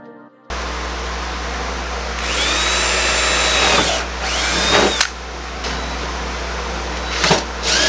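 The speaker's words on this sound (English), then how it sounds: "We're going to drill holes for this one instead." A power drill whines loudly and steadily, its pitch rising as it bites into a Mazda Protege's metal fender, with a few brief pauses and restarts.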